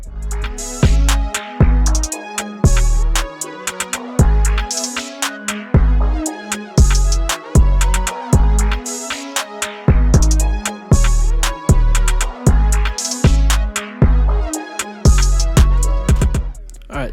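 Full arrangement of a futuristic hip-hop beat: heavy, booming kicks in a steady looping pattern under bright synth melodies and crisp percussion, loud and without vocals.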